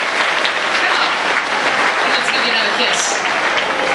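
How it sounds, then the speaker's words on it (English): Audience claps steadily and loudly at a sea lion show for a guest acting as trainer for a day, with a voice talking over the sustained applause. "Big round of applause for Nicole."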